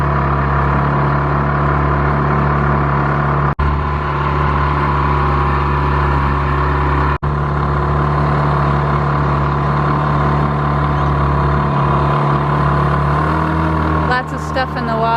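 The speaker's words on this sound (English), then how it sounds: "It's just revving too" Sailboat engine revving too high while motoring down a river, a loud, steady mechanical drone with strong low hum, two brief dropouts and some faint clatter near the end.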